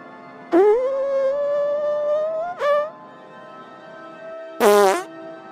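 A cartoon character's loud, long fart in a Caillou-style animation, a sustained pitched blast followed by a short squeak and then a final harsh burst, with no talking.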